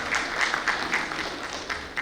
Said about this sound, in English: I think it requires a little bit more applause, from the crowd